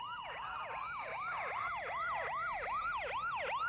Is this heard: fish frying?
no